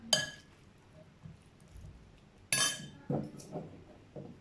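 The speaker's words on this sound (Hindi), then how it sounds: "थोड़ा सा मिक्स कर लेंगे इसे अच्छे तरीके से।" Spoon clinking against a bowl while chana chaat with potatoes and lemon juice is mixed, a few sharp metallic taps and soft squishy stirring between quiet pauses, close and fairly faint.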